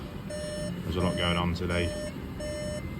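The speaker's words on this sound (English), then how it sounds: "apologies for the beeping in the background" Electronic beeps repeat in the background of a workshop during a Volkswagen Golf rear brake pad replacement, short evenly spaced tones, while someone talks over them in the middle.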